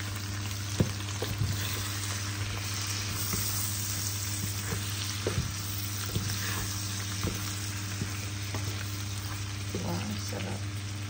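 Buttered garlic shrimp frying in a pan as black pepper, salt and Maggi cubes go in, giving a continuous hissing sizzle with a low steady hum and a few light stirring knocks.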